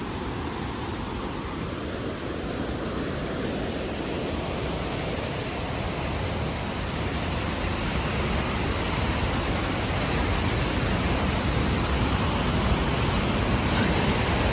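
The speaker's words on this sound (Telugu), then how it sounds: "వాటర్ ఎంత హెవీ ఫ్లో వస్తుందో చూడు" Tarabu waterfall in heavy flow after rains, a dense, steady roar of pounding water that holds constant and slightly swells toward the end, with no voices.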